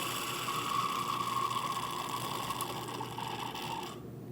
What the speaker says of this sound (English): Using a fluid extractor, we are going to extract all of the old brake fluid out of this cylinder.